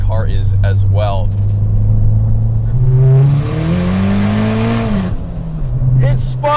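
A 500HP Dodge Caliber accelerating hard, its engine tone rising steeply through a gear with tire spin, loud and close inside the cabin, with people talking before and after the pull.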